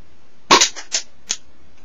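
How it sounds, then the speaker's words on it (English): Homemade BB gun firing one sharp, close snap followed by a few quick smaller clicks and rattles, then quiet. "I'll shoot at that. I'll try and aim for it and try and make a dent in it."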